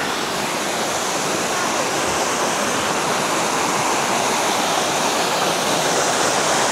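Bokong Falls, a waterfall in Sagada in the Mountain Province, sends water rushing with a constant, dense roar. It stays loud and unbroken throughout, with no clear voices above it.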